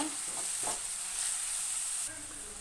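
Onions frying in a pan for a sprouted green gram palya make a steady, hissing sizzle with a couple of soft stirring scrapes near the start, heard close, dropping slightly in level toward the end.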